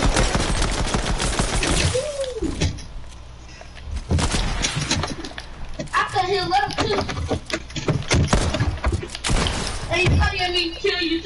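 Gunfire in a video game, with dense bursts of rapid shots and repeated loud cracks through most of the stretch, under excited talking voices.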